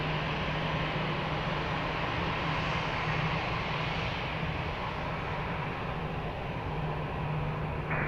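An airliner takes off from runway 20 at Lisbon Airport, its jet engines producing a steady, loud, broadband roar that holds level throughout with a low hum underneath and no voices.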